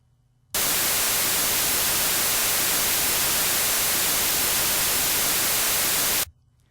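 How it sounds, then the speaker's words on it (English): Loud, steady white noise from a test signal generator hisses evenly for about six seconds, starting and stopping abruptly, with near silence before and after. "I'll just show you what white noise sounds and looks like on the frequency spectrum."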